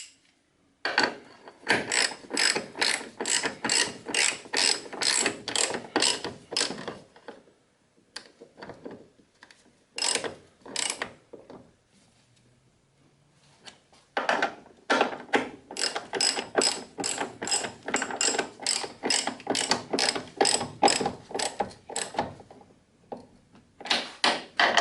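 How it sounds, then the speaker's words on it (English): A ratchet clicks rapidly while tightening front strut bolts on a 2007 Mini Cooper S, loud, close bursts of fast clicking separated by short pauses and a longer gap midway. "decided to go ahead and tighten these 3 bolts up here before lowering the jack"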